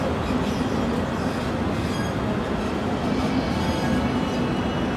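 Train noise at an intercity railway station in Berlin, a steady loud rumble of rolling stock with faint wheel squeal, continuous throughout with no talk.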